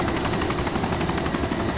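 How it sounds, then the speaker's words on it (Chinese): Helicopter in the video game DayZ, a steady rotor thrum with pulsing beats filling the short stretch, fairly loud and close with no voices over it. "有听到飞机的声音了。"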